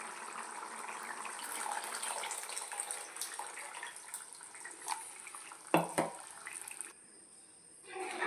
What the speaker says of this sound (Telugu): ఇప్పుడు చింతపండు పులుసు వేసేసుకుందామండి